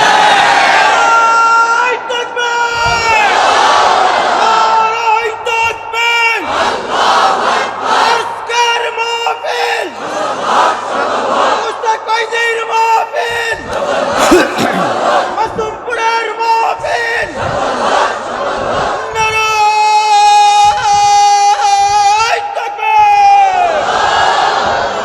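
A large crowd at a Bengali Islamic sermon led by a pir loudly chants a collective response of amin, voices swelling together in repeated waves for the entire stretch, with the preacher's voice mixed in.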